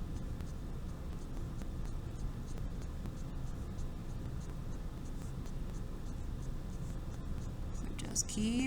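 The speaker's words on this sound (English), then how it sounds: "Just drawing a bunch of number ones." Pencil strokes drawing fur texture on paper, a steady run of short scratchy marks repeating continuously and close up, with a faint background hum throughout.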